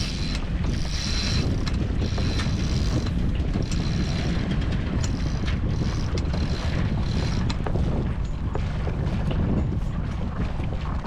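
A sailboat sailing out of a channel under jib alone with its engine in neutral, heard as a continuous loud rush of wind across the microphone and water washing past the hull.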